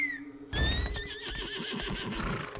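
A horse in the video game Lost Ark gives a loud, close whinny with a wavering, descending pitch, followed by soft hoof clops and rustling.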